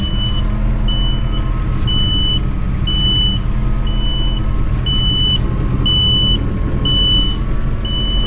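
A tractor reverses while cutting drainage ditches in an asparagus field, its steady diesel rumble filling the background as a reversing alarm beeps evenly about once per second throughout.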